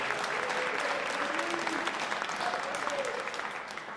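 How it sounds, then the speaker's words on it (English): Audience applause fills the room without a break, dense and steady clapping from a crowd at a presidential event at Lehigh County, fading a little toward the end. "Give him a hand."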